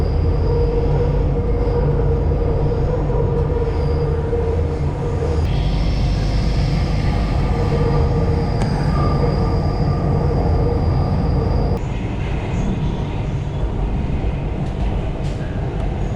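A Chennai metro train runs steadily out of an underground section and onto an elevated bridge, with a loud continuous rumble of wheels and car noise and faint squeals rising above it.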